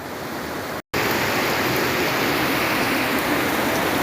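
Heavy rain falling during a fishing trip makes a loud, steady broadband hiss and patter, broken by one brief dropout near the start, with no voices.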